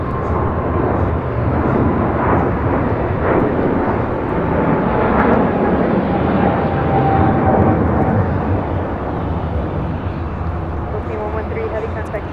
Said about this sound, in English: This is Philippine Airlines 113 taking off to Manila on a 777 300ER.